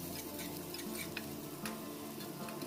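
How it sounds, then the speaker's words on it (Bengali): Chopped onion frying in mustard oil for a spinach dish, a faint steady sizzle with occasional soft stirring clicks, low in level against a humming background. "পেঁয়াজ কুচিটাকে একটু লাল লাল করে ভেজে নেব"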